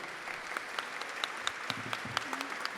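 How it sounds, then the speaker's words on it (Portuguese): Applause from an audience at a political launch event, a light patter of scattered claps heard from a distance with some murmur and a brief voice near the end. "Uma salva de palmas para Gisele de Lima."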